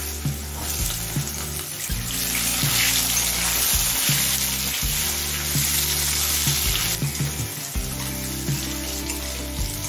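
Potato, carrot and jackfruit seeds fry in a pan, giving a loud, dense sizzle that swells as they go into the oil, with intermittent clattering stirs, close up and continuous.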